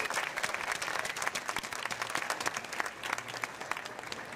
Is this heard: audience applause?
yes